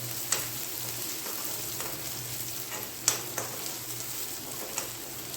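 Chopped small onions and curry leaves frying in a pan for a sardine curry, a soft continuous sizzle with occasional sharper crackles and pops, fairly quiet and close, no talking.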